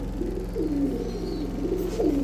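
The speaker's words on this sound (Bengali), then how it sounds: "কবুতর ছাড়লে কবুতরের কথা কইব" Giribaz high-flyer pigeons coo in repeated rolling, throaty phrases close by, with a steady low hum running underneath.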